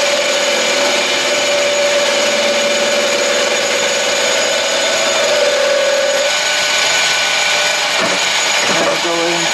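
A wooden pen blank spins on a lathe while a chisel cuts it down to the bushings, giving a loud, steady whine with a sustained tone and a broadband scraping hiss that continues throughout, changing near the end as the cut shifts.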